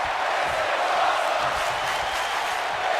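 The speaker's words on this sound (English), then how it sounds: "You hear the crowd chanting" A large arena crowd in the WWE 2K19 video game roars and chants continuously during a Daniel Bryan versus Ricochet match, a dense, steady wash of voices throughout.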